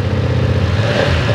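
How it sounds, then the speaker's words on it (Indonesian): A 2020 BMW F 900 R two-cylinder motorcycle engine revs briefly and up close, a loud bassy throbbing burble with a slight rise in pitch. "suaranya khas 2 silinder, dan kalau didengarkan lebih detail lagi, suaranya jauh lebih ngegas ya"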